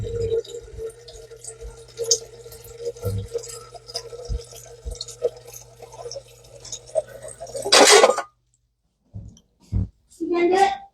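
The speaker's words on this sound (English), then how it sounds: "And it's filling up water." A glass jar fills with water from a kitchen tap, a steady running stream under occasional talk and clatter, ending in a louder rushing burst before it cuts off.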